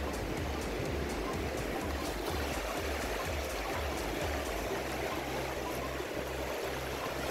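Sea water washes steadily along a beach on a cool, breezy day, a constant close hiss and rush of lapping waves blended with wind, with no clear talk over it.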